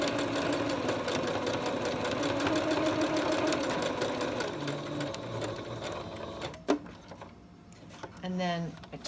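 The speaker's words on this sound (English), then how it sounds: "now I'm going to stitch along this short line, making sure that I grab the elastic as I do it" A domestic sewing machine stitches a DIY fabric face mask, catching the elastic in the seam with a fast, steady mechanical whirring. The stitching stops near the end, leaving a few clicks and brief sounds of handling.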